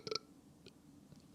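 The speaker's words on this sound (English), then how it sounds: "Such a small burp." A small, quick burp from a man, a short soft throaty pulse close to the microphone followed by faint mouth noises in a quiet room.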